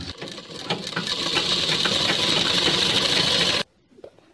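A sewing machine runs steadily while stitching net fabric for an anarkali frock, a loud, close, continuous mechanical whir lasting about three and a half seconds before stopping abruptly into quiet.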